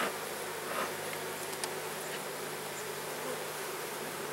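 Honey bees buzz around an opened hive on an overcast day, a dense, steady, close-up drone of many wings with no voices.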